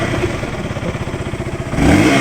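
A motorcycle engine runs close by with a steady, rhythmic idle chug, then revs up into a louder, fuller roar near the end.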